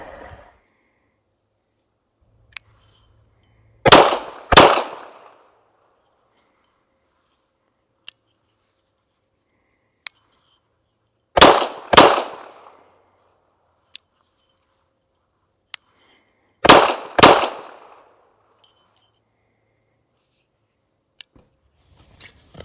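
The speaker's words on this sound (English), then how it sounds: "Next up, I'm going to be shooting some controlled pairs from a distance of 5 yards," A Girsan MC14 BDA pistol fires controlled pairs at an outdoor range, three sharp double shots spaced several seconds apart, loud and close, with faint clicks in between.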